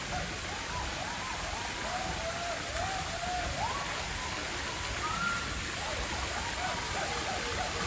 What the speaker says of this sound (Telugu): ఇలా వాటర్ ఫౌంటైన్ పెట్టారు లోపల